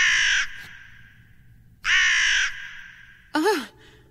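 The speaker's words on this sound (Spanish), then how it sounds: "es un cuervo" Cartoon crow cawing in three loud, harsh calls, two long drawn-out caws followed by a shorter rising squawk, with brief gaps of quiet between them.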